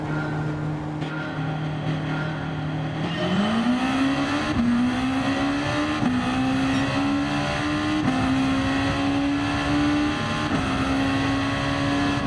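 Race cars at Suzuka Circuit in a racing video game, a loud sustained engine drone rising in pitch through gear changes as the car accelerates, continuous for the whole stretch with no talk.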